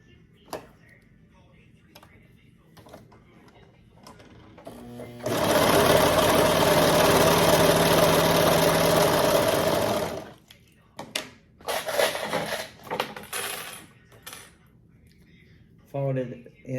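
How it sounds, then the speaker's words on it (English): A sewing machine runs in one sustained, loud burst of about five seconds as it stitches the raw edges of a romper neckband together, with quiet handling noises before it and shorter machine bursts after. "Sew the 2 raw edges together."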